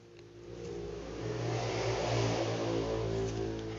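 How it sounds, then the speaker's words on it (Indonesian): A motorcycle passing outside, its engine swelling into a steady broad drone that peaks midway and eases slightly, heard alone at a moderate distance. "dengerin motor lewat tuh."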